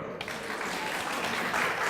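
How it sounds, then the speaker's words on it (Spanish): An audience at a university lecture on taxes and quality of life applauds a speaker, a dense burst of clapping that starts abruptly and keeps up steadily, swelling slightly toward the end. "Fuertes los aplausos."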